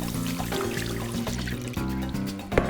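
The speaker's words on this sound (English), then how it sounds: "Then I'm adding 2 cups of half and half." Half and half pours into a pot for shrimp bisque in a short, gurgling stream with small splashes, close and moderately loud.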